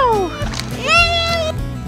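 A small child imitates a cat's meow with short rising and falling voiced cries, close and clear, while an adult voice speaks around the imitation during a day at the zoo.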